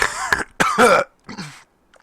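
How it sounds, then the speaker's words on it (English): A few short, raspy coughs in quick bursts, close and fairly loud, followed by a quieter throat-clearing cough and then silence. "Still got the cough."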